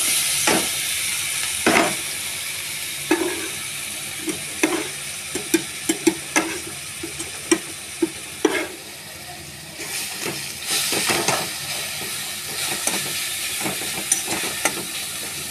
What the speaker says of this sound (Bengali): মাছের ঝোলের জন্য পেঁয়াজটা ভেজে নিই